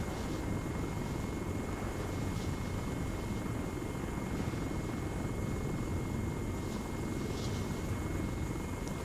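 A helicopter in the video game Arma 3 drones steadily with a constant rotor and engine roar, loud and unbroken for the whole stretch, with no voices.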